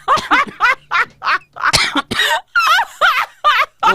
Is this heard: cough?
yes